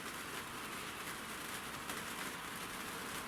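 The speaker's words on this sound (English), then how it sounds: "it keeps the rain off, which is a good thing because now it's pissing down" Heavy rain pours down in a dense, constant hiss that stays fairly faint and even throughout, with no voices.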